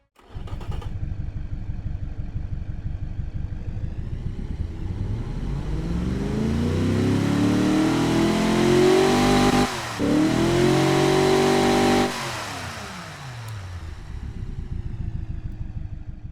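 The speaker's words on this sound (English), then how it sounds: "let's give you a listen to what this LS4 V8 sounds like in automation right now" A Chevrolet LS4 V8 engine in the Automation game, fitted with a muffler, revs up steadily, pitch climbing to a loud peak, briefly dipping, then rising again before easing off; smooth muffled tone, no talking.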